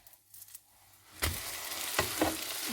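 A crab cake omelette sizzles in a pan: a quiet hiss first, then a sudden loud burst of frying as it is flipped, settling into a strong steady sizzle with a few scraping clinks.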